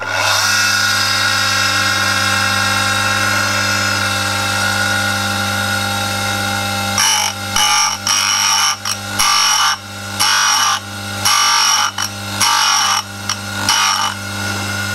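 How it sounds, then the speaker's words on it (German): A bench grinder spins up and runs with a steady, loud motor hum and high whine, then a drill bit is ground against the wheel in repeated short bursts of harsh grinding, with no talk. "Und schalte den Schleifbock an."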